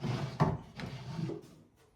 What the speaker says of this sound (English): Get the next drawer out.